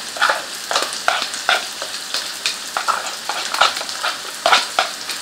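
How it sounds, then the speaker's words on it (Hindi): Chopped onion, ginger and garlic fry in a pan for a lentil dish, a steady sizzle broken by repeated scraping stirs at a close, even rhythm, with no voice. "इसको जरा सी देर इन तीनों चीज़ों को फ्राई करते हैं।"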